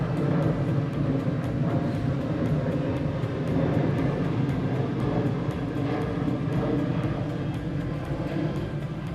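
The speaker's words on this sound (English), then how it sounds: "I'll give the plane a minute." A plane flies overhead during an outdoor groundbreaking event in Elkridge, producing a loud, continuous broadband roar that holds steady for the whole stretch and drowns out any other sound.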